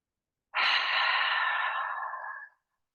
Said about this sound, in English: give yourself a nice long exhale through the mouth